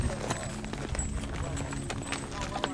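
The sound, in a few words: horse hooves during cattle drive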